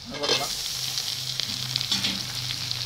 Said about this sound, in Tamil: ஒரு நாலு வெங்காயம் வெட்டி வச்சுருக்கோம் பெரிய வெங்காயம் அது கூட இதை வதக்கலாம்